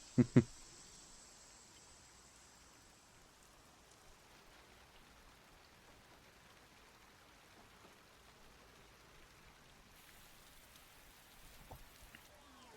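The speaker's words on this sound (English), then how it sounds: "It's raining." Soft, steady rainfall hiss in the video game Master Detective Archives: Rain Code fills the scene, faint and even throughout, with a couple of brief louder clicks at the very start.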